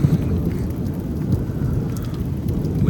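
Early-morning thunderstorm in Houston, Texas, with heavy steady rain and a deep continuous rumble of thunder filling the scene, loud and close throughout.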